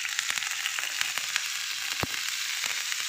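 Four finely chopped green chillies sizzle in hot oil with heated cumin seeds as a savoury vermicelli dish is made, a steady close frying hiss peppered with sharp crackles and pops.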